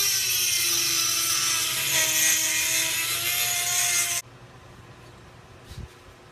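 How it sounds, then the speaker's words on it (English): A Dremel with a small grinding wheel grinds an axe head made from a railroad spike, a loud high-pitched steady whine held for about four seconds before it cuts off, then a faint bump. "I'm gonna use this little grinding wheel on the Dremel to get into these spots."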